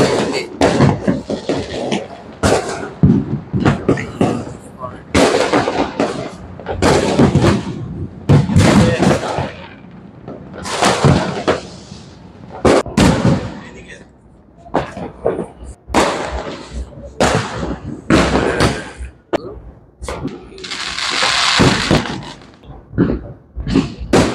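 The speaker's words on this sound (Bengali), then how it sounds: "তো চারিদিকে অনেক বাজি ফাটছে," Firecrackers and fireworks burst all around at midnight on New Year's Eve, a dense run of sharp, loud bangs and thumps at irregular intervals, some close and some farther off, with crackling between them and brief voices now and then.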